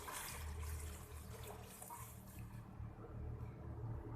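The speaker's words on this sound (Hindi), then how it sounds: "तो अब जो है मैं इसमें शामिल कर दूंगी ये 1 लीटर पानी।" One litre of water pours into a cooking pot of fried masala for rice, a faint continuous liquid rush and trickle that tapers off toward the end.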